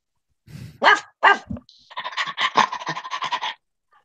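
A dog barks in a quick run of sharp, close yaps, a couple of separate loud barks followed by a rapid burst of repeated barking, loud and alone with no talk.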